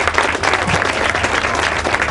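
An audience gives a round of steady, dense applause at an outdoor groundbreaking ceremony for Sheldon Oak Central, sustained for a couple of seconds with no speech on top.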